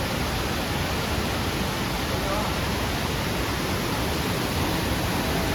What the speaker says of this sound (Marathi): टनल मधनं पाणी निघतंय.